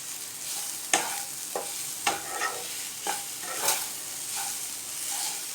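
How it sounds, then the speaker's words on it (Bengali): A spoon stirs vegetables and sugar through paneer fried rice in a hot pan, with regular scraping strokes about once a second over a light background sizzle. "আমি চিনিটাকে দিয়ে সব জিনিসগুলোকে ভালো করে মিক্সড করে নেব"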